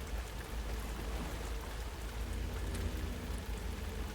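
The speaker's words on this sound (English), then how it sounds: "It's all misty, and then it started raining more strongly." Steady video game rain from Alan Wake 2 patters and hisses continuously at a moderate level, with no voices or other sounds breaking through.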